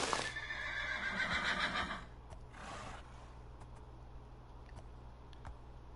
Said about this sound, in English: Come on, move along, horse.